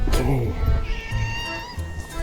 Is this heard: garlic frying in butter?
no